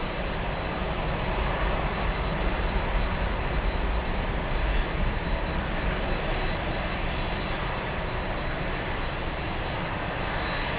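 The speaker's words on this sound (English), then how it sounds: "look, there's so many planes taking off" Lufthansa planes taking off at Frankfurt airport, among them an A321 and a 747, give a loud, steady jet roar that fills the whole stretch without a break and with no voices.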